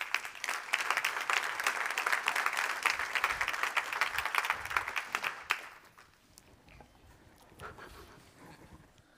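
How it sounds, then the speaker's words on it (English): Enthusiastic applause from a conference audience at a green technology event for several seconds, then dying down into quiet room noise with a few stray claps. "A big applause for Wolfgang Koller."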